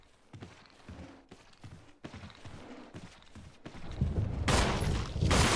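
A gunshot landing a headshot in the video game Resident Evil Remake: a few soft, muffled game sounds at first, then a sudden loud, sharp burst of gunfire that fills the last second or so.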